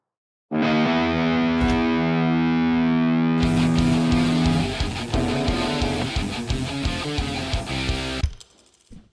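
A distorted electric guitar plays loud and up close: a sustained, ringing chord first, then a chugging, palm-muted rock riff with sharp rhythmic accents that cuts off abruptly near the end.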